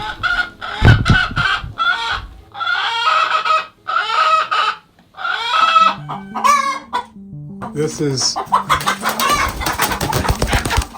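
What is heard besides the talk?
hens in nest box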